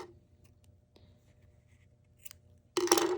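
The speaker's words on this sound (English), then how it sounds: "Then you're going to cut your yarn" Scissors snip through yarn in a quiet room with small faint clicks, then a sharp louder cut near the end.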